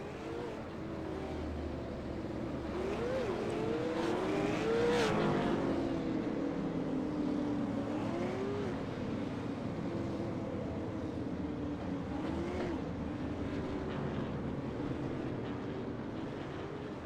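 Field of race cars pacing around the Myrtle Beach oval in iRacing, engines droning steadily and loudly with rising and falling pitch as they pass, continuous throughout with no talk.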